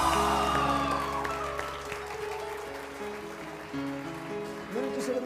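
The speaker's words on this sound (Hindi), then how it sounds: "बहुत सारी तालियाँ इश्तियाक के लिए" Studio audience applause on a television morning show, a steady wash of clapping that tapers off over several seconds, blended with music playing underneath.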